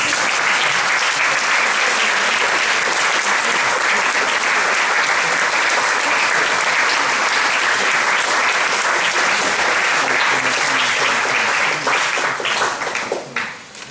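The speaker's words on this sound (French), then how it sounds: "des applaudissements." A large audience applauds steadily and loudly, the clapping sustained before tapering off at the end.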